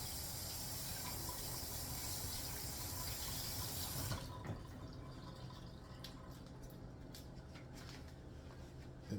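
Kale rinsed under a running kitchen tap, a loud steady gush of water for about four seconds, then the flow stops, leaving faint drips and soft handling sounds.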